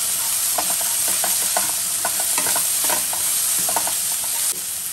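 Ginger garlic paste frying in a hot pan until browned, a steady bright sizzle broken by repeated scraping stirs of a spoon against the pan, close and continuous with no voices.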